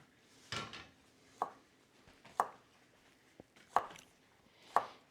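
Garlic is chopped thinly with a knife on a board, five distinct, fairly quiet knife strikes spaced about a second apart in a calm kitchen.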